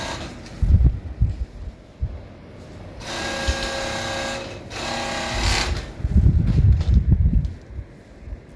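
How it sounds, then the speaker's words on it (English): Overlock machine stitching heavy fabric for two-piece nightwear pants, with a loud steady whirring burst of a couple of seconds and a shorter run after it, set between quieter handling noises. "I'll be finishing everything up with my overlock machine because this material is very, very heavy."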